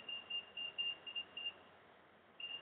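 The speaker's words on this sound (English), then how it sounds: "Set the timer for 45 minutes." Oven control panel beeping while its timer is set: a quiet series of short, high electronic beeps in quick irregular presses, a pause, then one more beep, with no voices.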